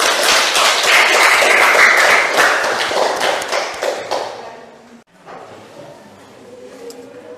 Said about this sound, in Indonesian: Tepuk tangan kepada kelompoknya Sisa.